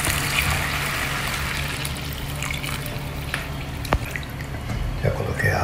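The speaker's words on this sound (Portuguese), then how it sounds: "Então agora vamos colocar a água." Hot water poured from a mug into a pot of rice on the stove, a steady trickling and dribbling pour running throughout at close range over a low background hum.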